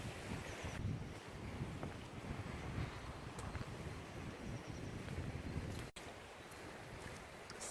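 A light breeze blows steadily outdoors beside water on a drizzly day at a solo wild camp, soft continuous rushing with faint watery wash and no voices, broken briefly by a short dip near the end.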